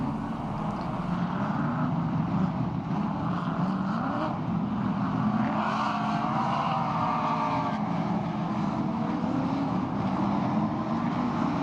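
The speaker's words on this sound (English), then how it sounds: "Leading the touring cars out is Paul Stubber in the ex-Harvey Marlboro Holdendale Team Tirana." A Holden touring car leads a field of touring cars around the circuit at a Muscle Car Masters historic race meeting, giving a continuous loud engine roar that rises and falls as the cars pass.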